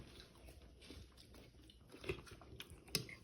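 Soft chewing and biting of roti at a home dinner, a few quiet moist crunches close to the mouth, faint and alone without talk.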